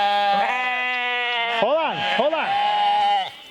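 A sheep on a farm bleats loudly and close, one long wavering call breaking into shorter quavering cries, with a brief spoken remark near the start.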